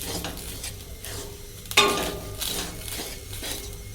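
Grated coconut roasting in a pan on a slow flame for a Kerala-style chickpea (kadalai) curry, a steady soft sizzle with light stirring scrapes and one sharper utensil clink partway through.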